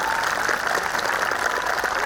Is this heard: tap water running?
no